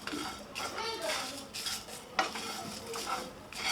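A spoon stirs dabeli masala with finely grated coconut as it dry-roasts in a pan, giving close, repeated scraping and rustling strokes with light metallic clinks against the pan.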